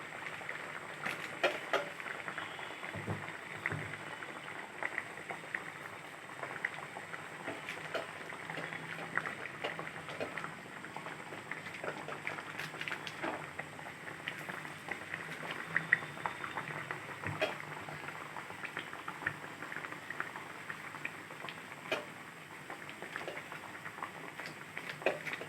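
Pearl millet burelu, pressed flat like vada, fry in hot oil in a kadai, giving a soft steady bubbling hiss that runs on through the whole stretch at low level with faint clinks and no speech.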